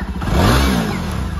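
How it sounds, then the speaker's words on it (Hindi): A Royal Enfield Super Meteor 650 cruiser motorcycle engine gives a short, loud, close rev that rises and settles within about a second. "चलो भाई हम रोहान को लेके चलने बाइक पे।"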